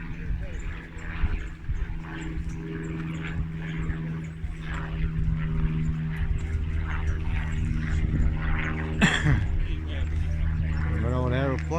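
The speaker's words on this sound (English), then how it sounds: "Got an aeroplane." A propeller aeroplane drones overhead, a low steady engine hum that builds slightly over time, heard outdoors at a Mustang car gathering with people talking nearby.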